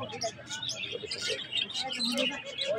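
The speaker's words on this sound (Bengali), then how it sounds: "এই যে উপরে যেটা, এগুলো হচ্ছে ডায়মন্ড ঘুঘু" At a bird market with caged diamond doves, a busy mix of close chirps and short calls from many birds overlaps continuously, fairly loud and unbroken.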